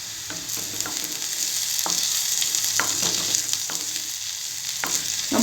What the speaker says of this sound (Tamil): ப்ரொக்கோலியும் நம்ம இந்த பட்டரோட நல்லா ஃப்ரை ஆகணும்.